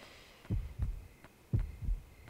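Video game heartbeat sound effect from the horror game Yomawari: two slow lub-dub heartbeats, deep and thumping, pulse with a steady rhythm over a faint background hum.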